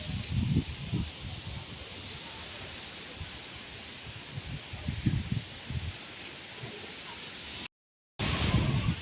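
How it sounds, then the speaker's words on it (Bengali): Strong gusty wind rushing and rustling around a house doorway during a storm, a steady broadband roar with louder low gusts, briefly cut off near the end. "আওয়াজ পাইতেছেন কেমন বাতাস?"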